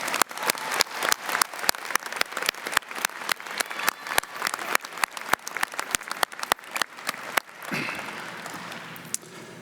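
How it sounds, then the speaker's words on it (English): Convocation audience at Algonquin College applauding professors and faculty, a fairly sparse crowd with distinct individual claps in a fast rhythm that fades out near the end. "I would like to ask everyone to give an applause to our professors and esteemed faculty members here at Algonquin"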